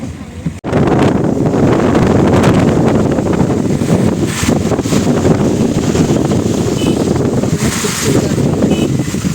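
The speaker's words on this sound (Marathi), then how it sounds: "पाऊस भरपूर असा आहे पाऊस वाढतच चाललाय" Heavy rain pours steadily on a mountain ghat road climbing toward Harishchandragad near Bhandardara, a loud, dense broadband roar, gusty like wind against the microphone, that continues unbroken after a brief dip at the start.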